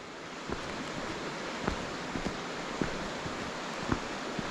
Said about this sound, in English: this is the bend in the river where it gets forced against the side here